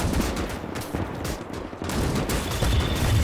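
A mech's gun fires continuously in a Winds of Iron 1920+ battle, a dense rattling barrage of rapid shots, loud and close, with a brief lull in the middle before the firing swells again.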